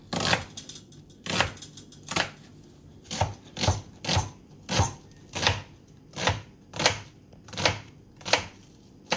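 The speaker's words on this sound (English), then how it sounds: "I'm gonna chop these onions in cubes." Knife chopping yellow sweet onions and red onions into cubes on a cutting board, a steady series of about a dozen sharp close chops at an even rhythm, with no talking.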